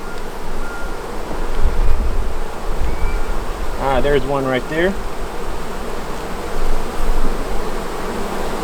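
A steady buzzing of honey bees fills the background, close by at a hive with laying workers, with someone speaking briefly in the middle.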